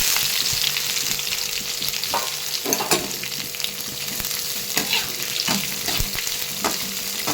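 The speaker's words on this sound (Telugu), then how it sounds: "గోల్డెన్ కలర్లోకి వచ్చేదాకా వేపుకోవాలి. వేగాక తరిగిన కాకరకాయ దెబ్బల్ని వేయాలండి." Chopped bitter gourd fries in a pan with a constant close sizzle. A spoon scrapes and clinks now and then as the pieces are stirred, and no one talks.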